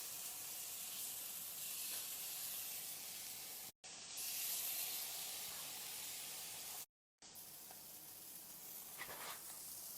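Small chicken burgers fry in hot oil in a pan, giving a steady, loud broadband sizzle and hiss that runs continuously, broken only by two brief dropouts.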